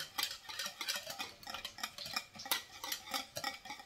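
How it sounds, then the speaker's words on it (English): Whisking ingredients together in a bowl, a quick rhythmic series of close metallic taps and scrapes, fairly faint and alone. "Just whisking it together"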